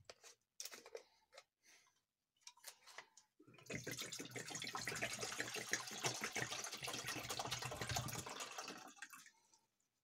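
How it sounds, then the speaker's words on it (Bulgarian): One liter of cold water is poured from a canteen into a pot of a spirit-burner cooking set, with a few small drips and clinks, then a steady close pour lasting several seconds before tapering off. "След което в съдинката ще излеем 1 литър студена вода."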